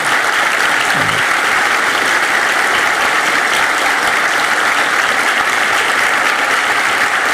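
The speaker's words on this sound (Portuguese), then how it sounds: "dessem uma salva de palmas a esse grupo valoroso que está aqui à frente" Loud, dense standing ovation from a church congregation for the choir after an Easter cantata at a Seventh-day Adventist central church. The clapping is steady and sustained throughout, with no voices on top.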